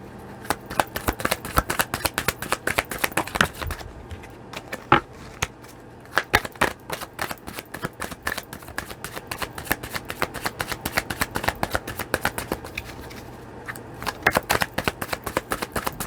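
Romance angel cards are shuffled by hand in rapid, crisp riffling bursts with brief pauses between them, close and fairly quiet, with no talk.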